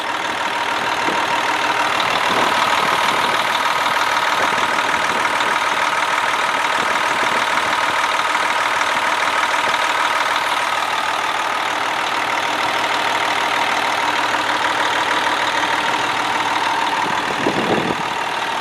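A 2013 Freightliner Columbia 120 semi truck engine idles nearby with a steady, even rumble that runs unchanged throughout, and no voices are heard.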